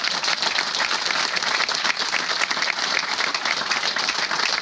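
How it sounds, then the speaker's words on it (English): An audience at a Navy retirement ceremony for a master chief petty officer claps loudly and continuously, thick sustained applause from a sizable crowd with no speech on top. "Give them a round of applause."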